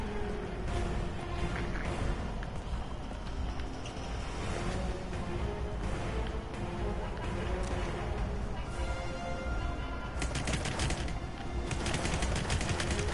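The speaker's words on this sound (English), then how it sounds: "who's shooting at me?" Gunfire in the video game Hitman, with several bursts of shots over steady game background noise, the densest volley near the end.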